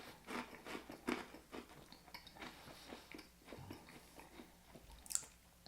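Someone bites into fennel and chews, giving close, quiet crunches in an irregular rhythm with soft mouth sounds between bites.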